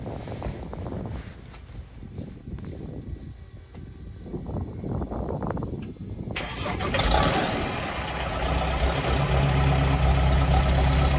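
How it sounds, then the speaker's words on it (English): A Mahindra Roxor engine cranks and catches in cold, near-freezing weather: a steady low mechanical drone builds, then the engine fires and settles into a louder, rough idle close by, with no talking. "let's get the Roxor started"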